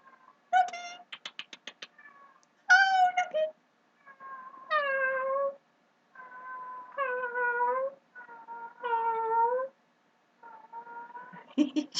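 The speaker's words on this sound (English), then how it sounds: "Can you hear the cat?" A cat meows repeatedly at close range, a series of clear, drawn-out mews with short gaps between them, loud and distinct against a quiet room.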